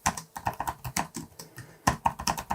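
Rapid keystrokes on a computer keyboard while a command is typed for a Raspberry Pi, with a quick, uneven clatter of close, crisp key presses and a short pause before another burst.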